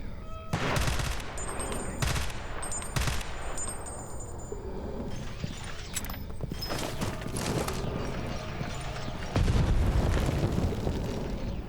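Grenades going off in S.T.A.L.K.E.R. Anomaly, several loud bursts with deep low rumble amid a dense stretch of gunfire-like cracks, with a heavy blast near the end.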